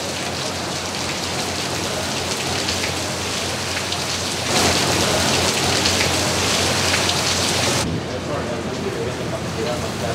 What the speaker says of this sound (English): What we are having now is not isolated showers. This is a full-on storm.